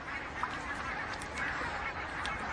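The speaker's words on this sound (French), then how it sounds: "Canards, cygnes et foulques se rassemblent autour des dernières étendues d'eau encore épargnées par la glace" Ducks, swans and coots crowd together on a partly frozen lake, making a steady, dense chorus of honks and quacks with no break, some calls rising slightly above the rest.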